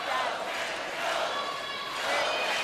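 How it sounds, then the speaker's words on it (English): A curling world championship crowd in an arena roars and cheers, a broad steady wash of distant crowd noise with no clear individual voices. "A lot of people cheering against you."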